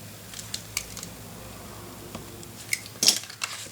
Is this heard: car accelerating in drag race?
no